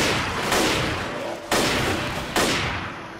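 Automatic gunfire in the Left 4 Dead co-op shooter. Three loud, sustained bursts roar one after another, each starting abruptly and trailing off with no voices over them.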